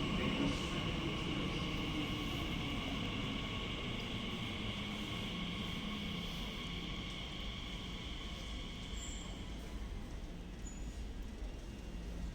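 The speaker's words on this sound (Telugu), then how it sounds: "ఇప్పుడు ట్రైన్ వచ్చింది కదా, ఇప్పుడు డోర్ ఓపెన్ అవుతుంది చూడండి" Elizabeth line train in London heard from the platform: a steady rumbling roar with high whining tones as it pulls into the station and settles, continuous and fairly close, no door sounds standing out.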